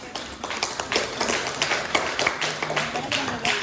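Student audience at a high school debate competition claps for the pro and con teams, a loose scatter of individual hand claps with some talk mixed in underneath.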